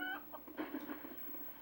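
A chicken in the Lego Pirates of the Caribbean video game gives a couple of faint, quick clucks, quiet and alone over a soft game background.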